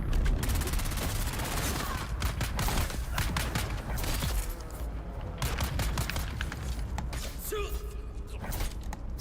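Gunfire in the video game Dune crackles in dense rapid bursts and single shots, with mechanical clatter over steady loud game ambience throughout.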